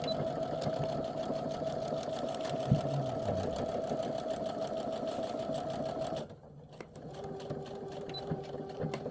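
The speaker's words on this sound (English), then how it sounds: "And then I'm going to flip it over and then I'm going to sew my next line." A sewing machine runs steadily, stitching a line on a foundation paper-pieced quilt block, with a continuous motor whine and needle rhythm that stops briefly near the end and then resumes more softly.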